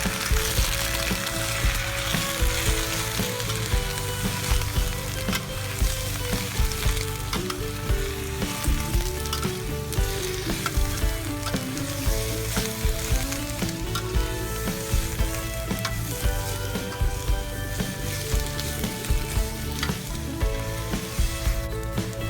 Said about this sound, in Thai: ผัดกระหล่ำปลีจนกว่าจะสุก และใส่น้ำลงไปหนึ่งช้อนโต๊ะ